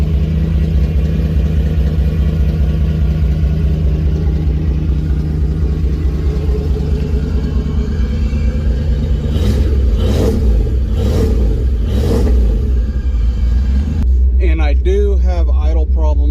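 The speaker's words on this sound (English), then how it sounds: "Exhaust sounds real nice." A deep Toyota 1UZ V8 engine in a second-generation 4Runner rumbles steadily at idle throughout. A voice speaks over it near the middle, and another brief voice comes in at the end.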